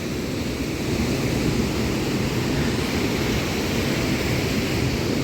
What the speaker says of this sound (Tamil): இந்த இந்த குழிக்குள்ளே வந்து கிட்டத்தட்ட எத்தனை ஆயிரம் டன் தண்ணி விழுது தெரியுமா?